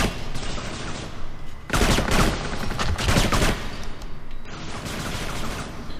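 Rapid gunfire in the shooter game Kane and Lynch 2: Dog Days, loud dense bursts crackling almost continuously, with heavier volleys swelling in the middle and a steady clatter throughout.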